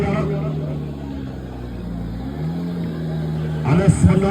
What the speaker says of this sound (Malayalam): അനസ് മണ്ണാർക്കാടിന്റെ വാഹനം കുതിക്കുകയാണ്.